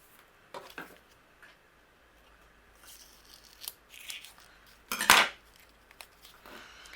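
Scissors snip a thin strip from leftover patterned paper for a music-themed shaker card. A couple of faint cuts come first, then one crisp, louder snip near the end, close by, with no talk.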